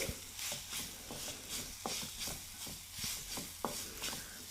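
Grated potato stirred together with spices and gram flour in a pan, a soft steady sizzle broken by repeated scraping strokes of a spoon at an uneven rhythm, close and fairly quiet.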